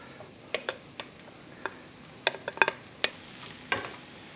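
Cabbage mixture frying in hot avocado oil in a non-stick skillet, heard as sparse, faint crackling pops and ticks scattered over a quiet background, with no steady sizzle.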